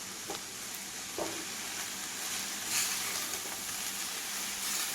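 Fresh spinach for a thoran stirred in a hot pan, a steady close sizzle with a few soft clinks and scrapes of the spoon, and no voices.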